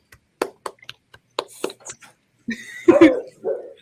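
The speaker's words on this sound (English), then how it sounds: "That's my dogs." A few sharp dog barks and yips ring out in short bursts, with a louder cluster near the end, fairly close by.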